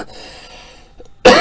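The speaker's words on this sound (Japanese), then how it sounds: "気になる咳の音。" A single sudden loud cough bursts out near the end after a quiet, faintly hissy stretch.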